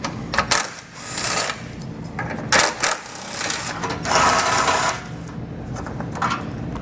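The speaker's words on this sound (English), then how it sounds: "We'll need to remove those with a 13mm socket." A power tool with a 13mm socket spins out radiator support bolts on a 2022 Ford Escape, giving a close, busy rattling whir with short pauses and surges and no talking.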